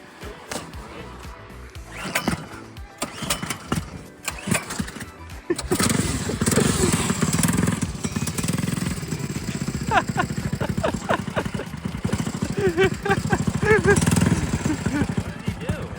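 An FRP Rebel mini bike's small engine starts and runs on wet, snow-melting pavement, a steady, close, rumbling drone that settles in after a few sputtering bursts and stays loud to the end.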